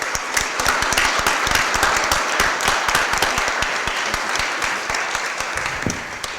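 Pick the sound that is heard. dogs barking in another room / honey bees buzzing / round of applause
round of applause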